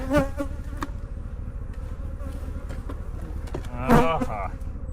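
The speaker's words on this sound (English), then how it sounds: "it's a full-on hive, and there's a lot of bees out working in the field" Honeybees buzz steadily around a full hive in the field, a low continuous drone. Louder sharp bursts rise over it near the start and again later, and no one speaks.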